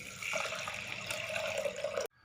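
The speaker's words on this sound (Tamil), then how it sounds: "கீரை செய்ய பருப்புக்கு தண்ணி" Water is poured steadily into a pot of soaked lentils for a mixed greens dish, a close continuous trickling stream that cuts off abruptly at the end.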